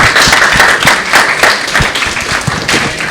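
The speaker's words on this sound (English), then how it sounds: "I want to give these people a round of applause" Round of applause from a room of attendees honoring high school athletes at a name, image and likeness business session, steady broadband clapping throughout with a few sharper nearby claps standing out, no voices.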